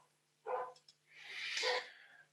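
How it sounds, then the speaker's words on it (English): Dogs barking indoors in the background, a sharp bark followed by a longer, louder yelping bark, moderately close and heard alone without talk. "Apologies if you can hear my dogs barking."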